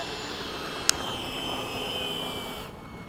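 Jet aircraft engine in a flight simulator game during a landing, a steady whining roar with a single sharp click early on, the engine tone fading away toward the end.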